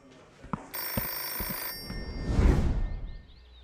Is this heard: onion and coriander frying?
no